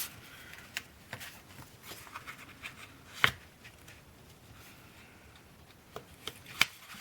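Paper being folded and creased for a watercolour album page, soft rustles and scattered sharp taps and presses, quiet and close with a few louder snaps.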